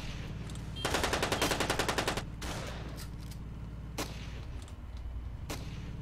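Rapid automatic AK rifle fire from a stick-figure battlefield shooter game, a dense burst of shots lasting over a second, then a few sharper isolated cracks amid a steady background of combat noise.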